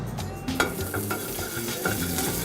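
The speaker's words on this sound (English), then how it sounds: "Just get that nice little sizzle on the shallot, caramelize the shallots." Shallots sizzle steadily in vegetable oil in a hot pan, a soft continuous crackle with occasional stirring scrapes, close and fairly quiet.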